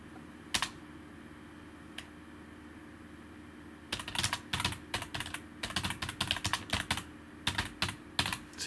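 Someone types on a computer keyboard: a few isolated taps at first, then dense, uneven bursts of close, crisp key clicks with no voices.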